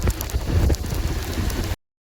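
Heavy rain pours down in a dense, loud, steady roar close by, then cuts off abruptly.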